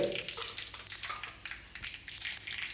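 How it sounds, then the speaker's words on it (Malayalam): Mustard seeds splutter and crackle in hot coconut oil, giving quick irregular pops and sizzles near the mic, with faint clinks of a pan and spoon. "ഇനിയിപ്പോൾ നമുക്ക് വെളിച്ചെണ്ണയിൽ കടുക്"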